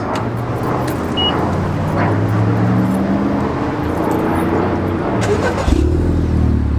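A 2018-or-later Honda Accord fitted with a new DC Sports exhaust runs close by with a loud, steady, deep idle, then shifts to a heavier, lower note near the end.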